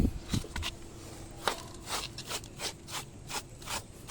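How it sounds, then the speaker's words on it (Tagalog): A number 4 paintbrush sweeps loosened debris from the cracks of a concrete roof deck slab after steel brushing, giving repeated short dry scrubbing strokes close by in an irregular rhythm. "gamitin natin ng paintbrush na number 4 para yung mga singit-singit matanggal yung mga natanggal natin ng steel brush"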